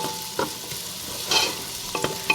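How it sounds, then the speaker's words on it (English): Chopped onion and crushed garlic sauté in olive oil in a pan, giving a soft steady sizzle with a few brief scraping stirs, close and fairly quiet. "saute this for just a couple minutes"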